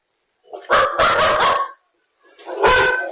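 Several dogs in Melbourne barking in two loud bursts, a run of rapid overlapping barks followed by a pause and another close bark, with no talking.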